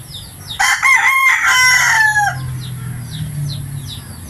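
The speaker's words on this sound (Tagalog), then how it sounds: "alaga yung manok" A rooster crows loudly nearby in one long drawn-out call, followed by softer clucking and faint chirps in the background.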